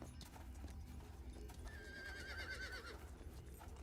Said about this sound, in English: A black horse with little white fur spots.